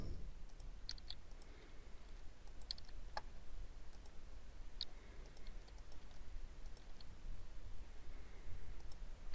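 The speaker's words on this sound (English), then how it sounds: "So I now type in the quantities that I want to transfer." Quantities being typed on a computer keyboard in inventory software, a sparse run of soft, quiet key clicks in an irregular rhythm over a low, near-silent room hum.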